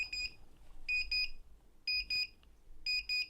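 A Gamemax V4 ARGB PWM 9-port fan hub beeps in repeated pairs of shrill electronic tones, like an old alarm clock, loud and steady with no voices.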